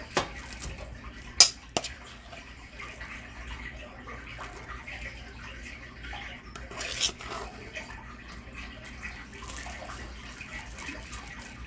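A spoon or spatula scraping a blue cheese log mixture out of a bowl, with faint scrapes and a couple of sharp clinks against the dish in a quiet kitchen.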